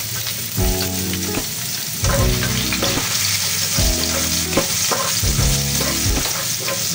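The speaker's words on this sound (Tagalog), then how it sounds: "magigisa na tayo. Unahin po natin yung ating bawang" Garlic sautéing in a pan, a loud close sizzle with repeated scraping stirs and spoon knocks against the pan at a steady pace, no talking.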